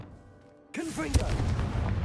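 The Confringo blasting spell in the Hogwarts Legacy video game fires with a sudden booming explosion, followed by a sharp crack and a rumbling, sustained roar, with brief tonal whistles riding over it.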